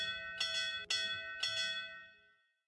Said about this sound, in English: All that's left is to ring the bell and wait.